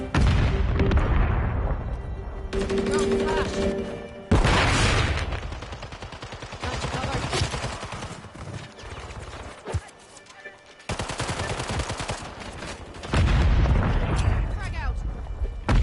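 Heavy gunfire and booming explosions in Call of Duty Modern Warfare, loud bursts and rumbling blasts coming in waves with short quieter gaps, while voices speak over the battle.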